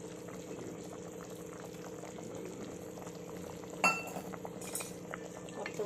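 Mutton curry boils quietly in a pot, a soft continuous bubbling with a faint metallic clink of a utensil partway through and no talking.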